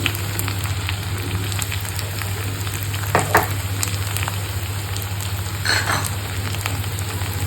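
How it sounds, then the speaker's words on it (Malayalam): Liver sautéing in a pan with turmeric, fennel powder, masala powder and pepper, a steady close sizzle and fry with occasional scraping stir strokes, no voices. "പൊടികളുടെ പച്ചമണം മാറുന്നത് വരെ നമുക്കിതൊന്ന് നല്ലോണം വഴറ്റിയെടുക്കാം"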